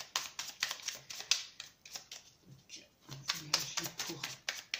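Tarot cards shuffled for a five-card draw, a steady run of crisp riffling flutters with a short pause midway, close and fairly quiet, with speech present.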